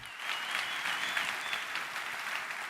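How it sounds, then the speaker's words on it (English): A live conference audience at a Bitcoin event bursts into steady, dense applause, a continuous wash of many hands clapping at moderate distance with no pauses. "Let's give her a round of applause."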